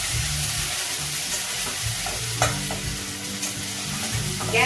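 Ginger sizzles and fries in a pan over low heat for palak paneer, a loud, steady crackle close by with occasional stirring scrapes.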